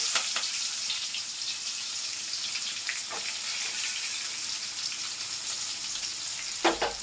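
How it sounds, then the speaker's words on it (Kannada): Green chillies, curry leaves and onions fry in a pan, giving a steady, bright sizzle with soft crackles and an occasional louder pop, continuous and close throughout. "ಇದೆಲ್ಲ ಸ್ವಲ್ಪ ಚೆನ್ನಾಗಿ ಫ್ರೈ ಮಾಡ್ಕೋಬೇಕು ನೀವು"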